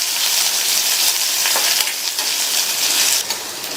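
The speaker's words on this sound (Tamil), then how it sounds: "வெங்காயத்தை இந்த மாதிரி லைட்டா வதக்கிட்டு" Onion sautéing in hot oil with cumin, curry leaves and green chili produces a loud, dense, crackling sizzle throughout, with a few spatula scrapes and stirring bursts close by and no speech.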